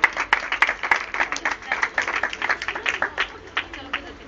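An audience at a Christmas event claps steadily to welcome children onto the stage, a dense run of sharp, rapid hand claps lasting throughout, moderately close, with voices underneath.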